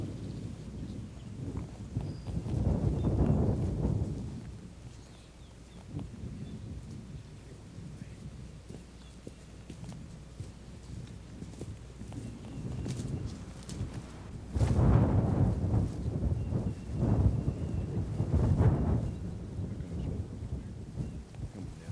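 Wind gusting outdoors in open country during a spring turkey hunt, a steady low rumble that swells into louder buffeting gusts around the middle and near the end, with no voices.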